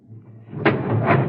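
A train car door in a radio drama opens with a close sliding thump, followed by a second softer knock over a low rumble.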